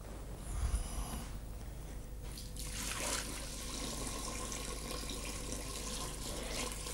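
Water splashes into a pot of sugar and glucose for traditional caramel candy, a steady rushing pour that rises after a short gap and keeps running close and loud to the end.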